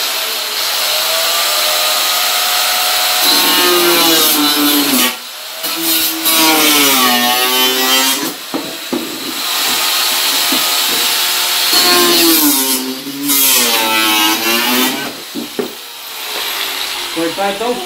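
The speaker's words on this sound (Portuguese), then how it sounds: "Espera o papai cortar aqui rapidinho a carenagem aqui, ó." A power tool cuts through a motorcycle fairing during a homemade quad build with a 125cc engine, giving loud, close, rasping bursts with wavering pitch that stop and restart several times, while someone talks and a child sings nearby.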